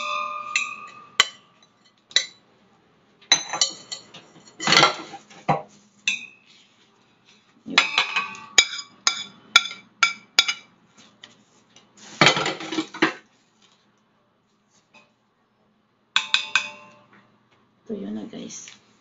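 Dumpling filling gets mixed in a large bowl with irregular bursts of clinking and scraping utensil strokes, separated by short quiet gaps, while someone talks.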